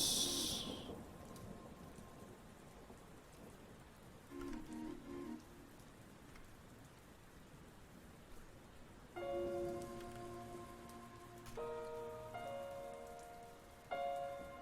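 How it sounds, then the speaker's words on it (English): Rain falling steadily as a soft, even hiss of drops, fairly faint and continuous, with brief musical tones and chimes drifting in partway through; no talking. "Is it raining where you are?"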